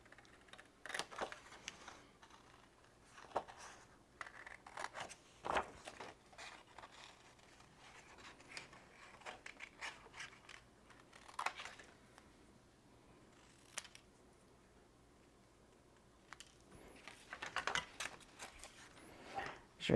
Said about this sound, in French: Et maintenant, je vais découper les bottes du papier blanc.